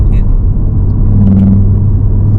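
Audi RS3 8Y fitted with a Milltek race exhaust, heard from inside the cabin while driving: a steady, deep engine rumble and low drone runs throughout, with people talking over it.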